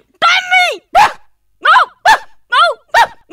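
A dog barks six or seven times in short, loud bursts close by, with brief pauses between each yelp.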